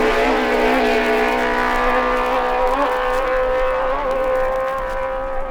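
John Surtees' racing motorcycle at the 1958 Senior TT takes the sweeping right-hander at Hilbury, its engine a loud, sustained, steady high whine with strong harmonics that holds throughout with only slight shifts in pitch.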